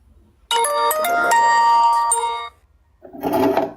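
A mobile phone ringing for a business call: a loud, close electronic melody of stepped tones for about two seconds, then a pause and a short burst of a voice.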